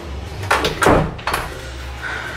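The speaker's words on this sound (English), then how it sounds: "Let me close the door." A hotel room door swings shut in a resort room, giving a couple of close, solid thuds and a latch clack over quiet room tone.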